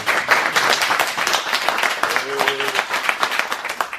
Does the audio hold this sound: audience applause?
yes